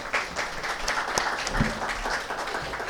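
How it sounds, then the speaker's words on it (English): An audience at a skills development panel event applauds to welcome a panelist, a lively burst of many hands clapping fairly close, with a few sharper individual claps standing out. "Can we have a huge round of applause for him?"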